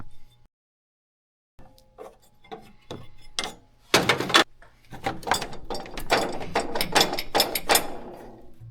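Socket ratchet working the radiator and fan shroud bolts on a first or second generation 12 valve Cummins, a run of close, rapid clicking bursts after a short silence, growing denser and steadier toward the end.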